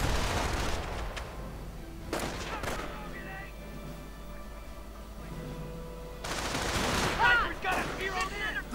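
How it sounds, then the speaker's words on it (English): A flak anti-aircraft gun in a wartime strategy game fires short rapid bursts of booming shots, with a sharper volley near the end over distant battle noise, as a commentator talks across parts of it. "Flak firing away, although recrew this time."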